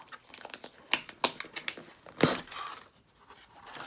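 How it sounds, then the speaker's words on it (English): Scissors snip and slice through a taped package, with several sharp crinkling, tearing cuts in a quick irregular series followed by a louder rip, close up and without talk. "I'm going to take my trusty scissors and try not to destroy anything. And we are going to open this totally together."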